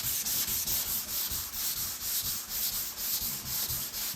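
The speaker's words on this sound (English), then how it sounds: "I'm turning this block ever so slightly in my hand as I'm blocking" A hand sanding block scrubs primer on a Mazda Miata body panel in quick, even back-and-forth strokes, a close, steady rhythmic rasp.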